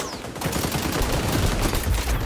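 Rapid automatic gunfire in the shooter game xDefiant, a dense, continuous burst of shots close up with little pause between rounds.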